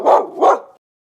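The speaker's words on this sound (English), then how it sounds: "Dog." A dog barks twice in quick succession, loud and close, then silence.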